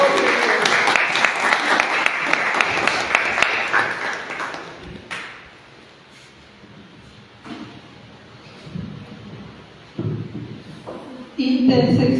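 Church congregation applauding at an Easter Sunday service, a dense burst of clapping for the first five seconds that then dies away, followed by quieter room noise, thumps and a short return of sound near the end.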